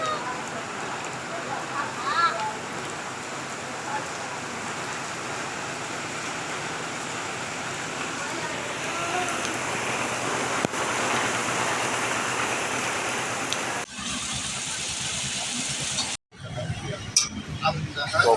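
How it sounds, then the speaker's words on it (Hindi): Steady outdoor rain falls in a continuous hiss, with a sudden cut and change in texture toward the end as though moving indoors or to shelter. "आज बारिश हो रही"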